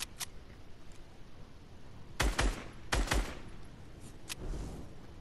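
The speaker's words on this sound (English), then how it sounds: "Put a couple shots down range." Gunshots in Fortnite fired from cover in a bush: two sharp bursts of a few quick shots each in the middle, with a single crack near the start and another near the end, fairly close over a low hiss.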